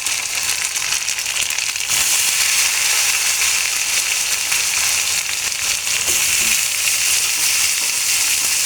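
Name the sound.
gourd pieces added to hot oil, frying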